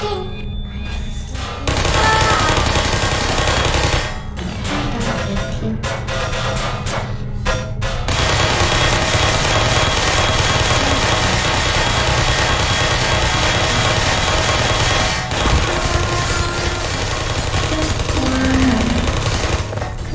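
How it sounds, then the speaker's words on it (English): Sentry turrets in the video game Portal firing rapid bursts, a dense, loud mechanical rattle that stutters briefly at the start, then runs almost unbroken as a continuous chattering stream of shots. "Stop shooting!"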